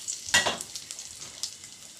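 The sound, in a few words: dry chili, panch phoron and bay leaves sizzling in oil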